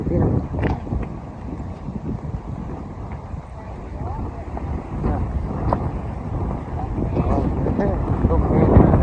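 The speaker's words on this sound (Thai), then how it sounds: "เรือลำใหญ่อยู่ที่น้ำ" A large boat crossing the Mekong River gives a steady, close rumbling drone mixed with wind buffeting throughout, with faint voices underneath.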